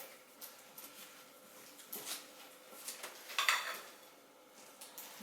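Soda bread dough being mixed in a bowl, heard as soft, faint scraping and stirring with a few light knocks of a utensil against the bowl's side.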